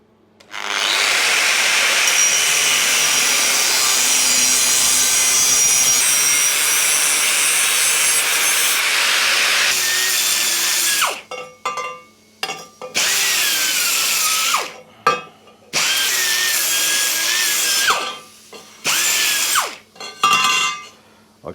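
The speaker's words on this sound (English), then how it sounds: "I'll mark all the way around the pipes then and trim them off." A power tool trims pipes in a workshop on a BMW project: a loud, continuous whine for about ten seconds, then several shorter bursts that start and stop, no talking.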